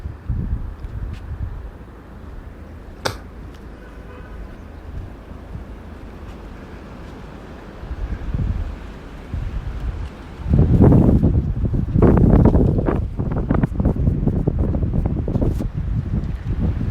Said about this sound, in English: Getting a lot of wind today